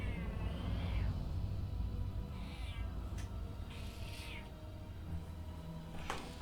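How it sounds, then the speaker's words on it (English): A pet cat meows several times at close range, with drawn-out, wavering cries over a low background rumble. "Let's pull the cat up for a cuddle. Because it's a kitty."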